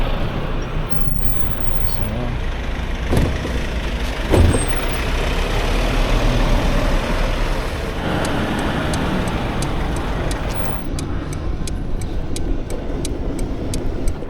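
Garbage truck working on a Stockholm city street, a steady heavy engine rumble with hissing air-brake bursts and clatter amid general traffic noise.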